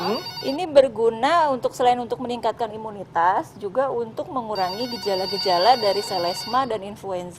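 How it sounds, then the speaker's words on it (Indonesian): A telephone rings with a steady high electronic tone for a couple of seconds on a TV health talk show set, partly under continuous studio conversation. "sebelum lanjut ini suara telepon seperti masuk nih"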